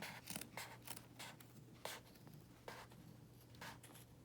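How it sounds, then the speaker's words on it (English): Sharp scissors snip repeatedly through the double-thickness seam of a knitted cardigan, a steady run of crisp, close cuts with short pauses between them and no talking. "You need some good sharp scissors, especially through the double thicknesses."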